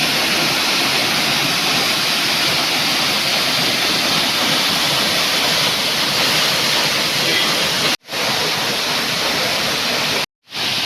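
A waterfall pours over rocks in a loud, steady, close roar of rushing water, with two brief cut-outs near the end.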